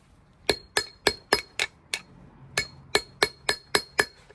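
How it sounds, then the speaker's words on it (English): A hammer tapping a flat screwdriver against a wheel bearing clip: a dozen sharp, bright metallic clinks in an even rhythm, close and loud over a quiet background, with one brief pause midway. "take a flat screwdriver, hold to the end and little bit hammer."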